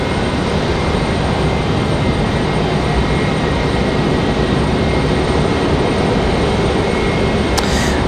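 Southwest airliner arriving from Tampa at Raleigh Durham International Airport, a steady broadband engine roar that holds loud and constant throughout, without voices.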